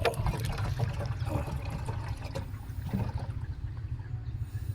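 Water pours steadily into a hand-washing container at a roadside parking area in Camarines Sur, Bicol, a continuous close trickle and splash over a low background rumble, with no talking.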